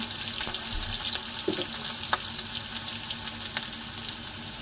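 Onion fries in a pan with a soft, constant sizzle and crackle, interrupted by occasional light stirring clicks and scrapes, fairly quiet and close.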